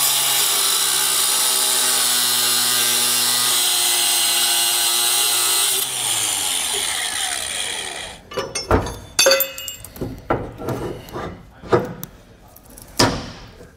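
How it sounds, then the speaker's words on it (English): An angle grinder with a cutoff wheel cuts through trailer leaf-spring U-bolts with a loud, sustained high whine, then spins down. Sharp metallic knocks and clanks follow as the parts are worked loose. "We're going to use a cutoff wheel to cut these U-bolts off."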